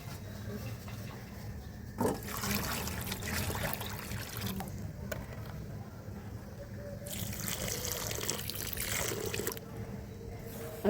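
Water pours and trickles into a crumbling clay mixture, a soft liquid gurgle with brief bursts of louder splashing and a faint bump, heard close.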